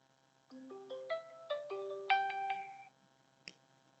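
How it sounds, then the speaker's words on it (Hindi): An incoming phone call plays a melodic electronic ringtone, a quick run of bright tones lasting a couple of seconds, then a short click, with no talk over it. "इस तरह से फोन आते रहते हैं ना सभी समय"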